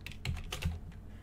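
Keystrokes on a computer keyboard while entering a pip install command for Python, a short run of several quick, light clicks close by with no talking.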